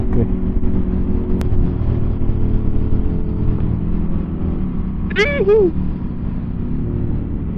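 A motorcycle engine, on a Ducati or BMW ride, gives a close, steady low rumble and drone with little change in pitch. A brief voice-like warble cuts in near the end.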